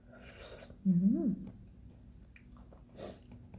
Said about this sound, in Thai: มากินมะฮุงสุกนำกันเด้อพี่น้องคะ